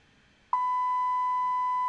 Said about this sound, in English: Ensure that there's a beep